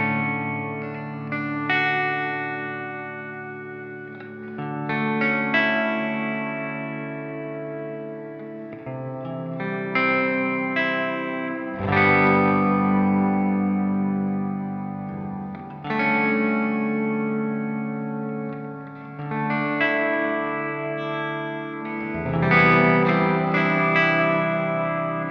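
Electric guitar through an Old Blood Noise Endeavors Sunlight stereo reverb pedal with the decay raised, strummed chords ringing out into long washy tails, several phrases over about 25 seconds with no talking.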